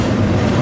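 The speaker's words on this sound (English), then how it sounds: "That's the train that's going eastbound with the BNSF pair" A freight train rumbles past near the Deshler crossroads, a loud, close, steady roar of rolling wagons filling the brief moment with no voices.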